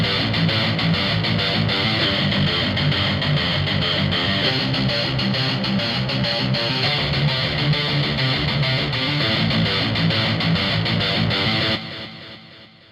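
A second distorted rock guitar riff from Sample Logic Cinematic Guitars Infinity plays loud and sustained, thick and driving for nearly twelve seconds, then cuts off and decays briefly.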